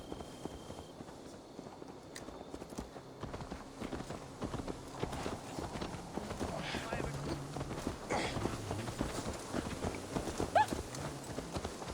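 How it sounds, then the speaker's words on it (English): A horse's hooves clip-clop steadily along a path in the video game Assassin's Creed Valhalla, with a brief whinny. Voices and other game sounds run underneath throughout. "Let's return the horse."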